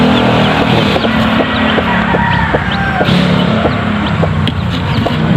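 Chickens cluck and chirp alongside newly hatched chicks, with short repeated calls over a dense, steady background of farmyard noise, fairly loud and close.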